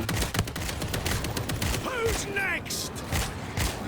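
Rapid bursts of gunfire in World War Z crackle and pop in quick succession, with other game effects and short chirping sounds mixed in.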